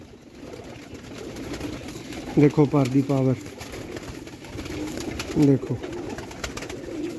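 Rooftop homing pigeons give a few short, low cooing bursts close by over steady outdoor background noise, with someone talking intermittently between them.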